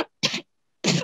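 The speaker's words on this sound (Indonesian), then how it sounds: "Batuk kenapa nah?" Two short, harsh coughs sound close to the microphone, separated by a brief silence, with a faint trailing sound at the very start.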